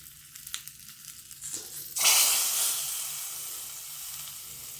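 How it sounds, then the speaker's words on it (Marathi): Hot tempering of chilli powder and curry leaves poured over boondi kadhi, a sudden loud sizzle bursting in after some faint clinks, then settling into a steady close hiss. "आता आपण कढीच्यावर ह्याला फोडणी देऊया"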